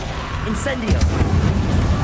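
An Incendio fire spell cast in Hogwarts Legacy lands as a loud whooshing boom followed by a sustained roaring rumble, with a shouting voice over the start.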